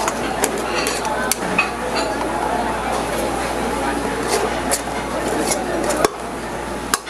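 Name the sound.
scooping cooked black rice out of a pot into a tray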